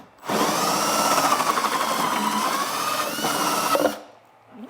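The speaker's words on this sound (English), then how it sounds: "I'll take my step drill again, and usually this drills out fairly easily" A step drill bores out a fitting on a Russian Su-30 RC jet model, a loud steady whine running for about three and a half seconds before cutting off abruptly, with no talk.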